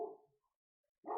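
Pet dogs barking indoors, two short bursts of woofs separated by a silent gap, fairly close but not loud.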